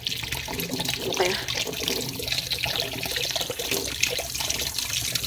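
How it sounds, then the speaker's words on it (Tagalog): Fern root fruit is rinsed under a running tap, a steady close splash of water with shifting spatters as the fruit is turned by hand. "Hugasan natin ang isa."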